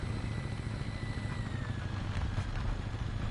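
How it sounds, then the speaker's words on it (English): A T-72 tank's engine in War Thunder, a steady low rumbling drone that holds evenly throughout, fairly faint and unbroken. "I think it's actually I'm just hearing my own engine"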